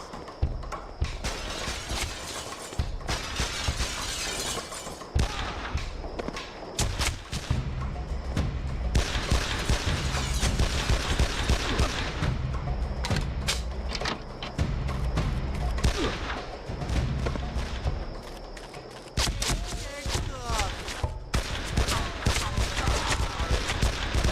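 Rapid, dense gunfire fills a room shootout in the Made Man video game, bursts of shots crackling nearly continuously with brief pauses between volleys, fairly close and loud.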